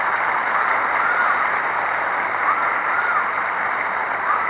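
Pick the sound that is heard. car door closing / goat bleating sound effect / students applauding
students applauding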